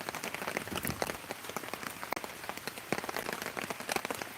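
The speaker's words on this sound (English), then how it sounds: "when you get the sound of that rain hitting your tarp" Rain drums steadily on a hammock tarp at a campsite, a dense, close patter of drops with irregular louder splats throughout.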